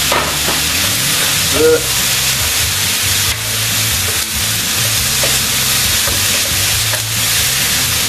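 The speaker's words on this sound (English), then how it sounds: "we'll probably chuck our pork in now, I reckon. There we go, pop it all in" Pork pieces tipped into a hot pan for thrice-cooked pork, giving a steady close sizzle and frying hiss with some stirring clatter throughout.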